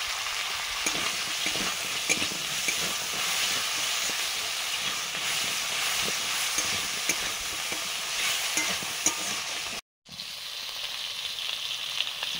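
Prawns and potatoes coated in salt and turmeric fry in a pan with a constant loud sizzle and hiss and occasional stirring scrapes, cut by a brief dropout near the end.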